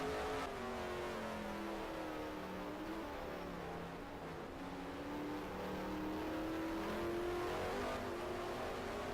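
A race car drives laps on a raceway, its engine droning steadily with shifting revs that rise and fall through the whole stretch, loud and continuous with no talk over it.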